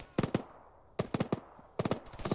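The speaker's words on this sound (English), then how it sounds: "Holy shit, that's a lot of gunshots." Gunfire rattles in a military video game, with three tight bursts of rapid automatic shots separated by short pauses and heard at moderate distance.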